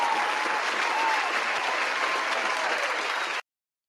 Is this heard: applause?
yes